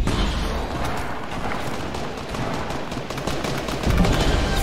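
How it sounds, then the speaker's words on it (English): Rapid sniper and assault gunfire in a Fortnite match, dense bursts of shots crackling continuously and loudly throughout, with no talk over it. "Someone just sniped them."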